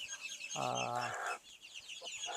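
Chickens on a Chinese duck farm give a loud, close burst of harmonic clucking that lasts about a second, followed by fainter, scattered clucks over steady barnyard background noise.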